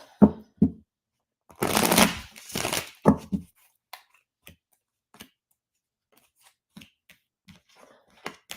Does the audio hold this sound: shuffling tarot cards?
yes